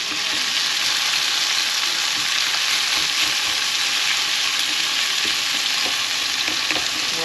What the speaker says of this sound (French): on va défaire les oignons. Là, maintenant qu'ils sont chauds